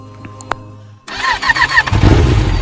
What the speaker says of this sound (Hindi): लो भाई, हो गई आपकी बाइक स्टार्ट।